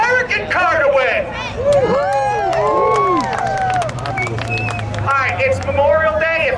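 A crowd of spectators at a Memorial Day speedway spectator drag race at Hudson Speedway cheers and whoops loudly and continuously, a steady roar of many voices close by.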